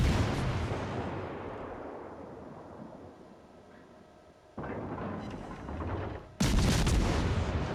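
Heavy naval gunfire from a warship in a cruiser battle game: a deep, booming rumble slowly fades, then two more loud blasts hit a couple of seconds apart, each a dense wall of roaring sound.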